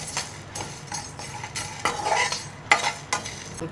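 Pepper and coriander seeds dry-roasting in a pan for country chicken curry, stirred with a utensil in repeated scraping strokes and light clinks, fairly close.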